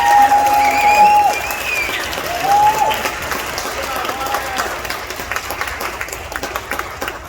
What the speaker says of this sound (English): One more big round of applause for our excellent.